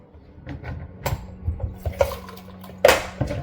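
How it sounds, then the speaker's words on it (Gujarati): Sweet lime juice pours from a hand-cranked juicer into a glass, a close liquid trickle with intermittent splashes and a sharper clink near the end, with no talking. "જો હમણાં મસ્ત ગ્લાસ ભરાય છે."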